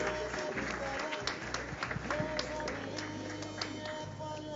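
An audience at a film song launch event claps for a guest at the host's request. The scattered, uneven applause is mixed with crowd noise and a low background hum.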